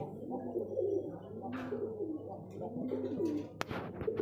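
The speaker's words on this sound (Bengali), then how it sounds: "দেখতে হচ্ছে চমৎকার একজন আফসান গ্রিজেল কবুতর" Afsan grizzle pigeons cooing close by, soft repeated rounded coos in a rhythmic series, with a sharp knock near the end.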